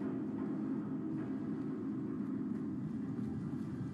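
Aircraft engine drone passing overhead in Fallout 4, a steady, continuous low rumble at even loudness throughout with no talking.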